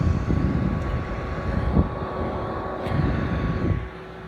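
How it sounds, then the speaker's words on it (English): A portable air conditioner's fan starts blowing cold air, giving a steady broadband whoosh with a low hum and a faint tonal whine, fairly close and even, easing slightly near the end. "It's gonna start blowing some cold air."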